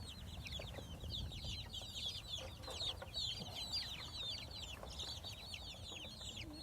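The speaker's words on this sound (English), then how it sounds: "That's a silver-laced Banty or Leghorn. The silver-laced Leghorn." Silver-laced Leghorn chickens cluck and chirp in a busy, overlapping flock chorus at moderate distance, steady throughout over low background rumble.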